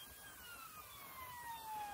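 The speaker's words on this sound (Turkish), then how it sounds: "Ambulans geliyor" Ambulance siren wailing in Emergency Ambulance Simulator, a steady high electronic tone sweeping slowly downward, moderately loud over a low engine rumble, with no talk.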